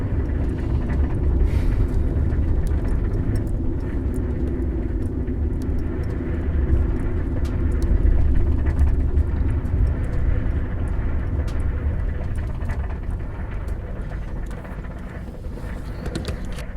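An overheating car engine runs with a steady low rumble that holds for the whole stretch. Nobody speaks over it.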